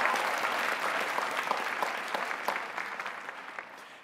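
An audience claps throughout a university graduation ceremony, dense and steady, with no voices over it.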